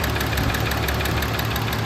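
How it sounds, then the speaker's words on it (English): A Volkswagen Jetta VR6 engine runs steadily at idle with a worrying knock in it. The sound is a constant, close mechanical hum with a faint repeating tick and no voices. "I know Volkswagens are a little noisy, but I'm not sure about this noisy, especially on the Vr6"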